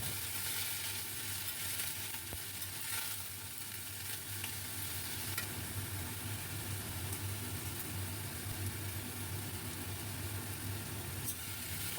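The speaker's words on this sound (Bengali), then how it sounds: "প্রথমে আমি শাকগুলোকে দিয়ে দেব, অল্প করে ভেজে নেব" Pumpkin leaves frying in a pan with salt for a prawn curry make a low, steady hiss, faint and fairly even, with a few soft stirring scrapes and no talking.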